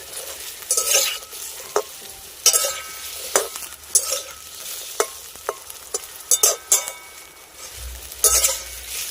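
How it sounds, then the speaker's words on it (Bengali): Eggplant and yardlong beans sizzle steadily in a hot pan while a utensil scrapes and stirs in sharp, irregular clacks against the metal. "বেগুন আর বরবটিটাও কিন্তু আমি হালকা করে ভেজে নিয়েছি"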